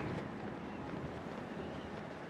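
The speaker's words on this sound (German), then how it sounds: "Wir haben hier schon richtig Wirbelwinde." Strong gusting wind in Zelda: Tears of the Kingdom near the Wind Temple, sailing from ship to ship against a headwind, a continuous broad whooshing rush that stays steady and fairly loud with no talk.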